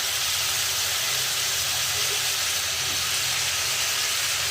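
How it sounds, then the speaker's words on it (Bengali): Onion stalks dropped into a pan of potatoes frying with spices give a loud, steady hiss of sizzling oil that runs unbroken throughout, close up, with no voices over it. "মোটামুটি অল্প স্বল্প ভাজা হতে হতে আমি এই পর্যায়ে পেঁয়াজ কলিগুলো দিয়ে দিচ্ছি।"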